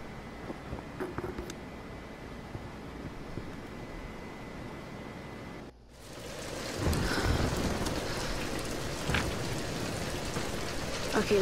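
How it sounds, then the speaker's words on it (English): Steady rain pours in a stormy scene in the video game Tomb Raider, with a brief dropout midway before heavier rain returns alongside rumbling thunder. "We're getting closer to the storm."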